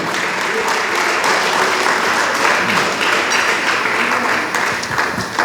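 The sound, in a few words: congregation clapping for the Lord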